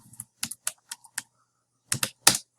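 Fingers tap a computer keyboard in short, irregular clusters of crisp clicks, close and clear with small pauses between the bursts.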